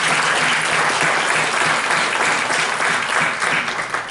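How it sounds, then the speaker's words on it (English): Parents receive a round of applause at a school board meeting, dense, steady clapping from a room of people, loud and continuous for several seconds. "if we could just give them a round of applause"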